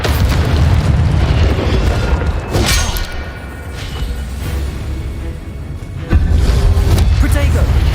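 Incendio fire spell cast in Hogwarts Legacy, a booming whoosh of flame over a steady rumbling game backdrop, with a second loud burst near the end.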